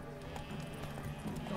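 Horse hooves clip-clop at a steady trotting rhythm in the video game The Witcher 3, a quick run of repeated hoof strikes over a continuous background game soundscape.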